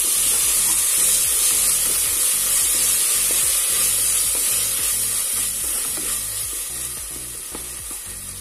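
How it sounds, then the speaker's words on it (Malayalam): Beef masala fries in a pan for a Kerala beef and koorkka varattiyathu, with a paste of shallots, black pepper and fennel stirred in. The steady, loud sizzle comes with repeated scraping stirs and slowly fades toward the end. "ചെറിയ ഉള്ളിയും കുരുമുളകും വലിയ ജീരകം ഇട്ടിട്ടുള്ള പേസ്റ്റ് ചേർത്ത് കൊടുക്കും നന്നായിട്ട് മിക്സ് ചെയ്യാം"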